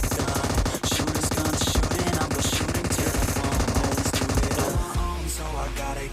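Continuous automatic gunfire in a PUBG-style battle royale video game, loud and rapid, a dense stream of shots throughout before thinning into scattered bursts near the end.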